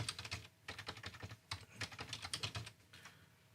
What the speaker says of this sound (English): I need this so I can type this in.